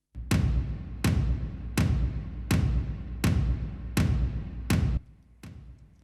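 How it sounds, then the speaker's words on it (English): Seven tom drum hits, evenly spaced and booming, each ringing briefly before the next, with a quieter tail at the end. "I am also adding tom samples, which sound like this."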